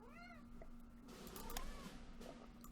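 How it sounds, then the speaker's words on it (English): A house cat meows a few times, with faint, drawn-out rising-and-falling calls heard over a low background hum and game-like ambience, with no speech over it. "There's my cat."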